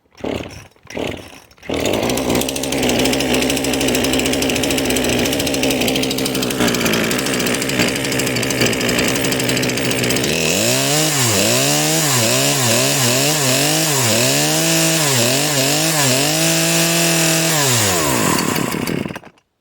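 A Poulan Pro chainsaw engine running after a carburetor replacement on half choke: a couple of pull-start bursts, then a loud, steady idle that breaks into repeated rising-and-falling revs close by.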